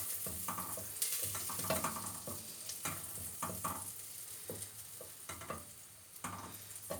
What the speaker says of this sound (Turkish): kıymamızı suyunu çekilerek kavuracağız